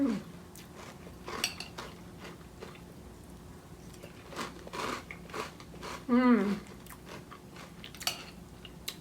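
Crunchy Reese's Bats peanut butter cereal in milk, chewed close to the mic in quick crisp bites. Faint spoon-and-bowl clinks come between them, and there is no talk over the chewing.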